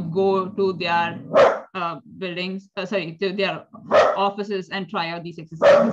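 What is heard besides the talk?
dog barking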